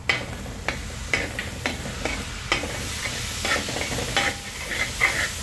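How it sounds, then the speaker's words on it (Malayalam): Crushed green chillies with turmeric and salt being fried and stirred in a pan, a constant close sizzle broken by repeated scraping stir strokes roughly every half second, with no talking. "ഇതും കൂടി ശരിക്കും നന്നായിട്ടൊന്ന് മൂപ്പിച്ചെടുക്കുക"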